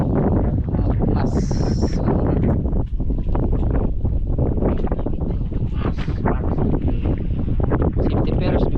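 Strong wind buffets the microphone on a small boat at sea, a steady loud roar with gusting rumble throughout and a brief high whine near the start.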